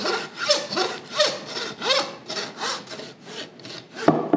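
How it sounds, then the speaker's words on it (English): A hand saw rasps back and forth through bone in steady strokes, gritty and close, about a dozen passes with no talking. "put your saw right here. Keep your hand a little bit further away from the saw so it doesn't hop and cut your hand"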